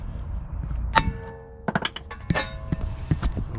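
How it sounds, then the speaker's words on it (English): A hammer strikes the wheel hub of a 2021 Hyundai Santa Fe, giving several sharp metallic clangs and thunks in an irregular series, close and fairly loud against a low background hum. "smack it with a hammer"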